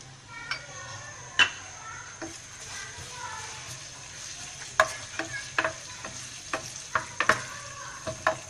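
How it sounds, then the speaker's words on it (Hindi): Chopped garlic and cumin seeds added to hot mustard oil sizzle quietly and steadily, with sharp clicks and taps of a spoon stirring in the pan throughout. "कटा हुआ लहसुन डाल रहे हैं, जीरा डाल रहे हैं"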